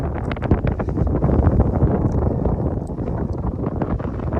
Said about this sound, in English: Kind of windy up here.